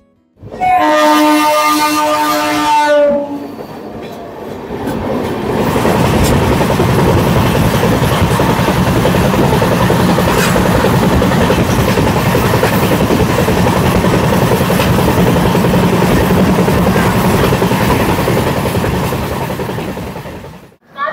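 The 13009 Doon Express from Howrah to Haridwar rumbles along steadily, a loud continuous roar of wheels and carriage noise that builds after a brief tonal horn-like blast at the start and holds for most of the stretch.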